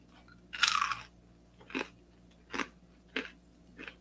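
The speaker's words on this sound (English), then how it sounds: "Do you hear that crunch?" Crisp, close crunching of a crunchy mushroom snack being bitten and chewed, one loud bite followed by four shorter, evenly spaced crunches in an otherwise quiet room.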